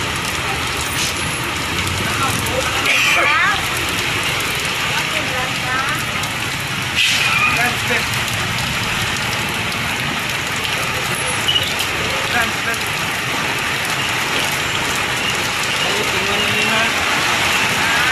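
Heavy rain pours down in a steady, dense hiss on surfaces, loud and continuous, with voices talking over it.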